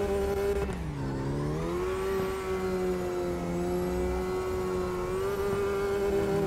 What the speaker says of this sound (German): Ich fahr jetzt gerade über die Autobahn.